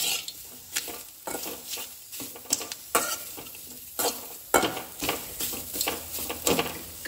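Chopped dill greens sizzle and fry in a dry pan while a spatula stirs them steadily, scraping and clinking against the metal in repeated bursts, close and fairly loud.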